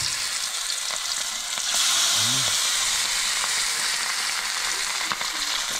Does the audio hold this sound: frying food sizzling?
yes